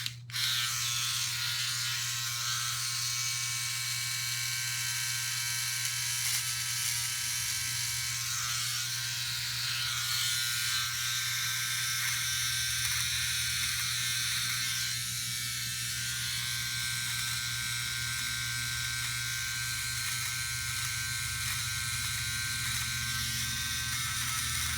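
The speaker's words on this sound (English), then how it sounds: "Now with OneBlade, you're supposed to cut against the grain, right?" A Philips OneBlade electric trimmer buzzes steadily and closely as it cuts a goatee upward against the grain, a constant high whine with slight shifts in tone as it moves over the hair, no voices over it.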